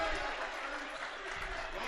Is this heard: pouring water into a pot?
no